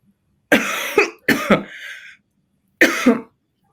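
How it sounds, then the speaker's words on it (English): Three harsh coughs close to the microphone, the first two in quick succession and the third after a short pause, with silence between. "Sorry, I think I got a cough."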